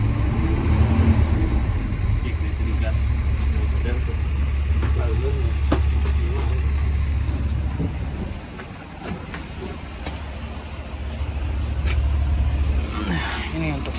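Steady low rumble of a Mercedes car engine idling with the air conditioning switched on, heard from close by with a brief dip midway, while a person talks over it.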